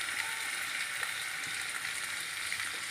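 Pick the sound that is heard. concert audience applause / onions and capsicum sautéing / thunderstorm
onions and capsicum sautéing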